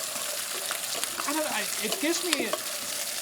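Cardamom and spices sizzling and frying in a hot pan, stirred with steady scraping and crackle filling the sound, while a voice speaks briefly over it.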